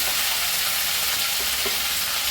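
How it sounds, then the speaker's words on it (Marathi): A ground masala paste for Maharashtrian stuffed brinjal sautés in a pan, a dense, steady sizzle heard close up with faint stirring and no talk. "ते चांगलं परतून घ्यायचं"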